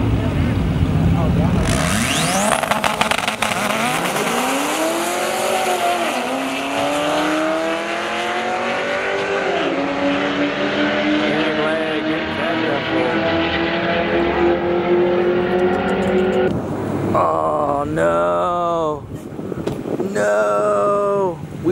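Honda drag race car launches hard down the strip, its engine screaming loud and rising through the gears with heavy wind noise, then shifting into choppier revs near the end.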